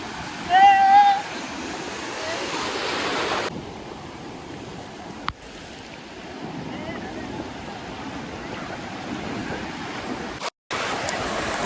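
Ocean surf at Ganpatipule beach rolls in as a broad, steady wash of wave noise with a brief whistle-like voice near the start, heard close and loud with wind buffeting.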